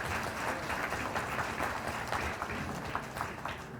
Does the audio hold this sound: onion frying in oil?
no